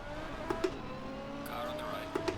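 A light, small race car in the racing game Assetto Corsa Competizione holds a high, steady engine whine on a straight, with a few sharp clicks from gear changes standing out over the tone.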